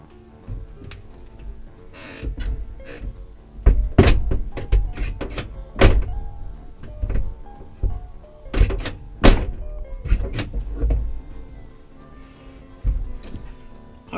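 Several solid door slams and latch thunks on a 1973-1991 square body truck, spaced irregularly and loud up close, with clicks and rattles in between.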